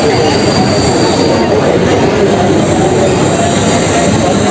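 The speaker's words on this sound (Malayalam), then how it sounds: "ട്രെയിൻ വന്നുകൊണ്ടിരിക്കുന്നുണ്ട്" A MEMU train arrives at a platform, rumbling loudly and steadily, with a dense roar of wheels on rails and a faint high metallic whine above, continuous throughout.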